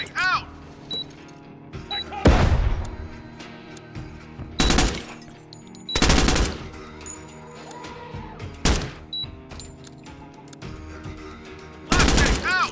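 Flashbang grenades thrown and bursting in Door Kickers 2: several loud sharp blasts spaced a few seconds apart, mixed with game gunfire, ringing tones and clatter, and a voice speaking in between.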